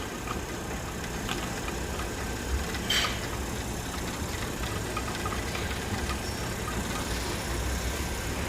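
A DC servomotor trainer runs steadily at a set speed, giving a continuous mid-level motor hum with broadband hiss and a brief brighter whir near the middle, no talking.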